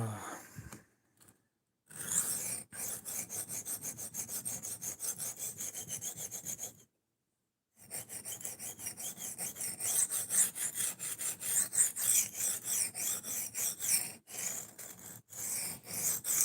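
Abrasive scratching against a stainless steel knife blade in repeated rasping strokes, with a couple of short pauses between bursts.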